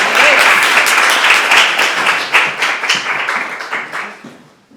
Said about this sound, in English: Many applause until they get to the stage.